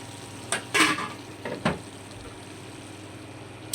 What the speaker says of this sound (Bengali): মাছের ভাজি হচ্ছে